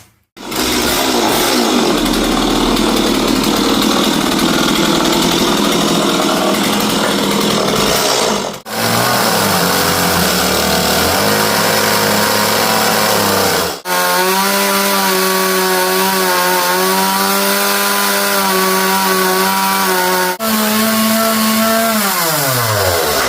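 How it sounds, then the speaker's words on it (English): A chainsaw trims oak timber, running loud and close in long continuous passes with a droning engine whose pitch dips and rises as the chain bites, broken by a few brief pauses. "little trim up, but the chainsaw isn't that accurate"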